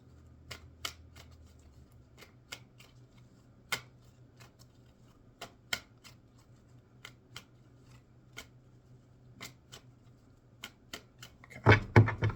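Tarot cards being shuffled with soft, irregular clicks and riffles, close by, ending in a louder flurry of card handling.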